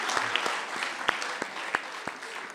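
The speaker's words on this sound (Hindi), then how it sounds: "एक बार जब मिलके तालियां बजाएं" An audience claps together at a Hindi patriotic poetry recital, a steady wash of applause broken by a few louder, sharper individual claps standing out near the front.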